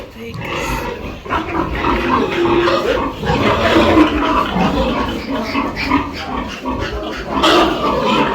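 Pigs on a village pig farm in Kenya grunting and squealing continuously and loudly, a dense, rough chorus of close animal noise with a brief sharp squeal near the end.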